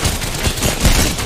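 Rapid gunfire in Apex Legends, a loud fusillade of overlapping shots and bursts close by, crackling unevenly across the brief moment with no talk.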